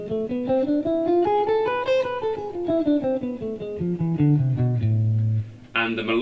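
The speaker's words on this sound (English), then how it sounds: "we also have these things called the harmonic minor scale," A harmonic minor scale played as a clear run of single pitched notes climbing and then descending at an even pace, ending on a long low held note, followed by a brief noisy burst at the end.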